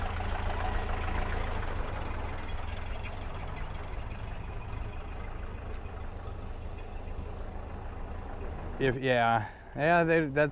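A 1928 Ford Model A pickup truck engine idles with a low, even rumble for several seconds before people begin talking over it near the end.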